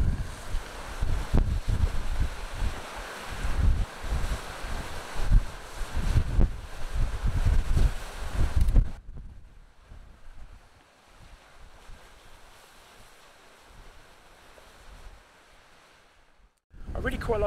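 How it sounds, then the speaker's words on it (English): Strong gale-force gusting wind roars and buffets the microphone by the sea at Portland Bill, Dorset, then drops to a quieter rush before surging again at the end. "It's pretty blown a gale now"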